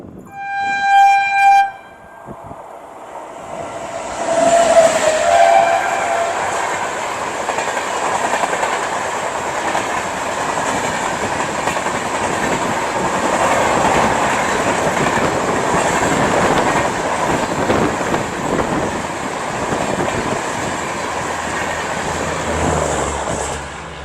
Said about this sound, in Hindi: ट्रेन की क्रॉसिंग हो रही है।